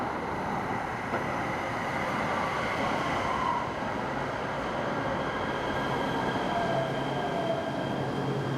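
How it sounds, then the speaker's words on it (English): An LA Metro train arrives at a station with a steady rumbling roar, faint squealing wheel tones sliding through it as it slows, heard close and continuous with no talk. "catching the train as it's arriving"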